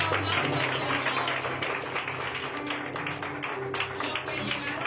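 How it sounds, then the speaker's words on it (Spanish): Church congregation applauding the Lord during a worship service, a steady wash of many hands clapping at moderate distance in a reverberant room, continuous and fairly even throughout, with no talking. "¿Cuántos me repiten ese aplauso al Señor?"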